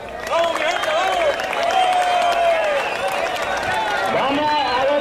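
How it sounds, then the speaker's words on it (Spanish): A live crowd claps and cheers for Pierre at a lively Spanish-language show, with steady, close applause under loud, excited talk throughout. "un aplauso para un Pierre"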